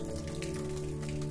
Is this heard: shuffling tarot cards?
no